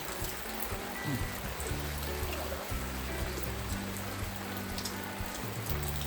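Steady rain falls on a rainy day, making a constant soft patter and trickle. A low hum sits beneath it, with no voices.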